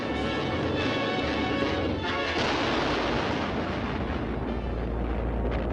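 Miniature explosion and crash effects from an old Republic Pictures film sound as loud roaring blasts with a sharp burst near the middle, followed by a dense rumbling crash that sustains to the end.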